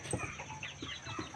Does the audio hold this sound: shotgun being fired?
no